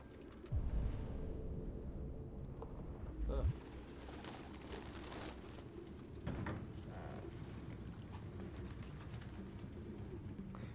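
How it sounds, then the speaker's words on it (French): Pigeons coo in the game Detroit Become Human, soft low throaty calls repeating among scattered flutter and ambient room noise at moderate distance. "il y avait des pigeons partout"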